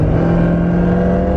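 A 704 HP Corvette C7 sports car sets off on a drive on icy roads, its engine giving a loud, steady, close droning hum with no speech.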